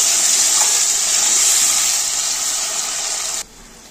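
Water is poured into a cooking pan of fried chilli fish in a steady, gushing stream that stops abruptly just before the end.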